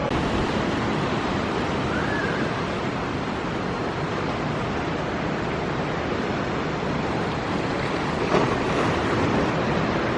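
Ocean waves roll and wash against the shore of Monterey Bay along Cannery Row in a continuous, broad surf roar mixed with wind noise on the microphone.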